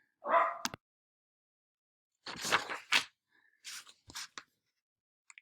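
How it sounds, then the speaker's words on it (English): A pet dog barks and yips in a few short, sharp bursts separated by silences, fairly close and loud, with no other sound between. "my dog is mad at somebody."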